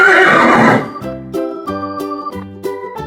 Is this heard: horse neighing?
yes